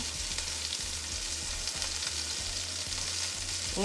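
Chunks of beef chuck roast sear in a pot with a steady, close sizzle and faint stirring scrapes. The frying hiss is loud and continuous and no one speaks over it.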